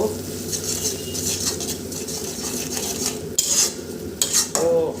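Chili powder and ginger-garlic paste being stirred and sautéed in a pan with onion, a steady scraping and clinking of a utensil against metal over a low sizzle, with a few sharper clatters near the end.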